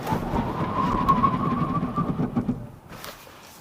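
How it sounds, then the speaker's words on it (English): A 2017 Hyundai Ioniq EV slows hard from 60 mph, giving a steady drone of road and tire noise with a rising whine that fades as the car comes to rest. "All right, so we're going 60 and braking."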